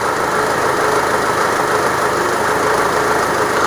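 A car engine fitted with a simple homemade water injection system runs steadily and loudly up close, holding an even idle with a rough mechanical rumble and no talk.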